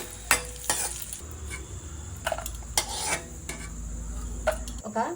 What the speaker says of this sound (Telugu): ముందుగా స్టవ్ మీద రెండు స్పూన్లు ఆయిల్ వేసుకుని మిరపకాయలు ఎర్రగా వేయించుకోవాలండి